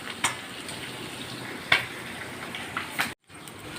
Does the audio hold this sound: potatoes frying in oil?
yes